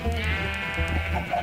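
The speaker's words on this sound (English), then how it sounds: "And over here is the sheep." Minecraft sheep bleat faintly in the game beneath a steady background hum, a short wavering cry near the end.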